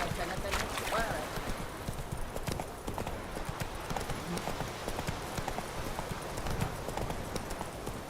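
Roach, the horse in The Witcher 3 video game, gallops with a steady, rapid clip-clop of hooves that fills the whole stretch, with a faint neigh near the start and no talking over it.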